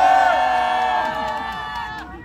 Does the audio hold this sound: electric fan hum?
no